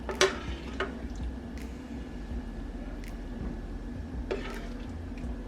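Shrimp added on top of a rice dish cooking in a pan, with a soft low sizzle and a few sharp clinks and scrapes of utensils against the pan.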